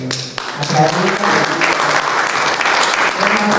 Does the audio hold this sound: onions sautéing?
no